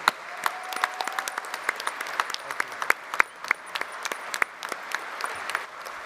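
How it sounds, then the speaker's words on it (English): A large audience at the GMB Union Congress claps warmly for a government minister, a dense, sustained round of applause with many sharp individual claps standing out across the hall, holding steady throughout. "Congress, give it another clap."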